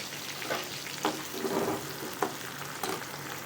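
Chopped tomato and curry leaves fry in a pan for a Chettinad raw banana dish, giving a steady hiss broken by a few short stirring scrapes and clinks, with no voices.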